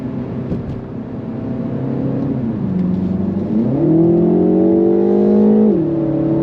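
Synthesized engine note from a 2026 Mini Cooper S piped through the cabin speakers, a steady droning hum that dips and then climbs in pitch as the car accelerates, loud and continuous with no talking.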